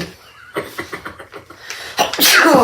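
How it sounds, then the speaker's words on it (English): Pollen from sniffed cannabis flower sets off a single sharp sneeze, loud and close, following a run of short breathy sounds. "The pollen made you sneeze."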